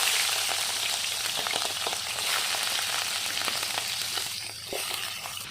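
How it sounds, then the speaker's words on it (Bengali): Turmeric- and salt-coated goat liver and potato pieces fry in hot oil, giving a steady, close, rain-like sizzle with small crackles throughout and no talk. "এখন হলুদ আর লবণ মাখিয়ে এই মেটেটা আর হচ্ছে আলুটা একবার ভেজে নিই।"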